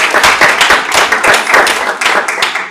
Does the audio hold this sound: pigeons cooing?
no